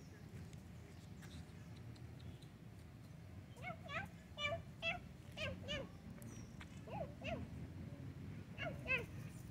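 Several cats, including an Angora, meow repeatedly at feeding time, short overlapping cries at moderate distance, over a low background rumble and some quiet talk.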